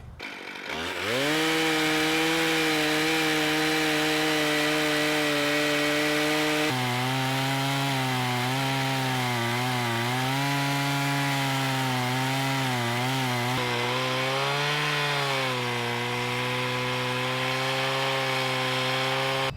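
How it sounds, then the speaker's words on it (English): An Alaskan chainsaw mill starts up and then runs loud and steady through a log at the 6-inch level, its engine pitch dipping and rising as the cut goes on. "our Alaskan mill is going to run right along the top of that initial cut"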